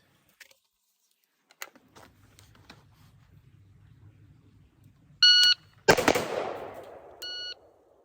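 Patrol carbine rifle shots during an entry-level qualification on a firing range: a single sharp, loud crack with a long ringing decay, set between faint clicks, equipment rattle and short electronic beeps.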